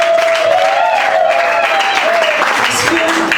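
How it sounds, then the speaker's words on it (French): An audience of blind women applauds at a Blind Women Day event, steady dense clapping throughout with a tonal sweep and voices riding over it. "Applaudissons pour nous-mêmes."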